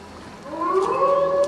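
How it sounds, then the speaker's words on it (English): A wolf howls alone in one long rising and wavering tone that swells midway and holds steady, with no talk over it. "That is a wolf."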